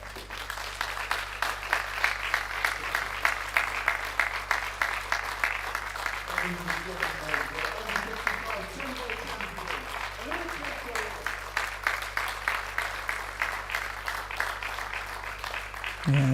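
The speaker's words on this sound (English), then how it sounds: "as you can hear the applause in the background" Steady rhythmic clapping from spectators at a European seniors pool championship, somewhat distant behind a commentator's voice, with a constant low hum underneath.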